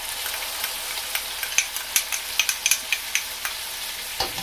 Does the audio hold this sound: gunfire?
no